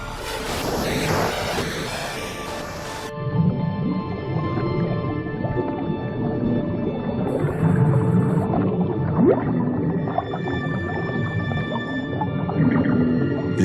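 Strange drawn-out dwarf minke whale calls, low groans and higher tonal sweeps, rise over the wash of waves and wind on the reef, with a burst of broadband noise at the start.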